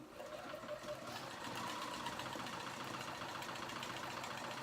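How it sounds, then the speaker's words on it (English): Sewing machine stitching a dress seam 1/8 inch from the edge, running as a steady, continuous mechanical whir at a low, even level with no pauses and no talking. "So now I'm gonna go ahead and sew that on."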